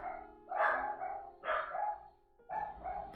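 Dogs barking indoors in three distinct bark bursts separated by short pauses, fairly close and clear with no talk.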